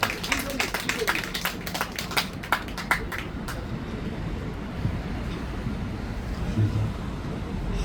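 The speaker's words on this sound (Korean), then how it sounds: "회장님께 다시 한번 큰 박수 부탁드릴까요?" Applause at a Korean Dano festival ceremony in a village square in Jongno, Seoul, after the chairman's long speech. Scattered claps come through clearly for about three seconds and then die into outdoor background noise.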